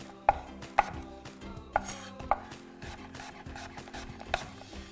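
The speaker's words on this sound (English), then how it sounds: "So I'm just gonna take and slice these down." A knife slicing apples on a cutting board for applesauce makes sharp, close, irregular chops, five or six distinct knocks over a few seconds with soft scraping between them.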